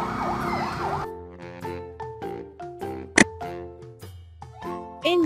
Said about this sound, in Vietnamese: Đây là xe cảnh sát của Trung Quốc